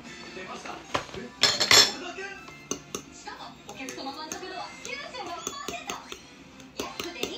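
Banana cake batter with oatmeal being mixed in a bowl, with a utensil clinking and scraping against the bowl in irregular bursts, one louder rattle near the start, close by, under quiet talk and a voice.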